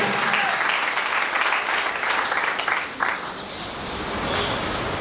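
A church congregation claps together in sustained applause, a dense crackling wash of many hands that continues steadily and eases slightly toward the end.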